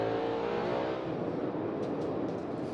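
NASCAR Cup race car at Sonoma roaring past the finish line during the Toyota/Save Mart 350, a loud close engine howl with a falling pitch as it passes, over a broad crowd and track wash.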